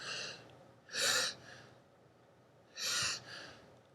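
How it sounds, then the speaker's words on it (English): Breathing during a martial arts lower body exercise: two strong, close breaths, each a loud rush of air lasting about half a second, separated by softer breath noise, with no talking. "Inhale, as I come here, exhale. Inhale, exhale."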